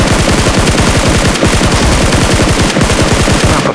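Rapid automatic gunfire in a horror video game, a loud continuous burst of evenly spaced shots with a couple of brief gaps.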